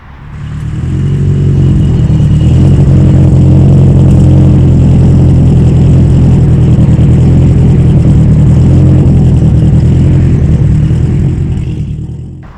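A Peugeot 306 race car engine revs loud and close, swelling up, holding a heavy sustained roar for several seconds and then easing off. No one speaks.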